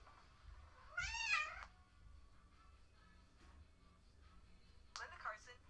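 A deaf cat lets out a loud, drawn-out meow up close, and after a quiet pause a shorter second cry comes, with faint room noise between the two.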